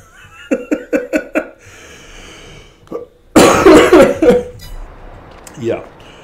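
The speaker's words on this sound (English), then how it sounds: "I'm sorry for coughing, by the way" Coughing from a man during a gameplay commentary, a quick run of five sharp coughs, then a single cough and a loud rough throat-clearing burst.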